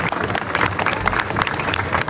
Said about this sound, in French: on peut les applaudir car c'est eux qui font le succès de ce salon